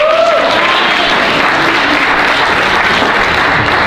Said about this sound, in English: Please give a round of applause for our mayor.